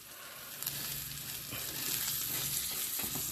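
Food fries in margarine in a pan, giving a steady, fairly loud sizzle and crackle with a few faint stirring knocks underneath.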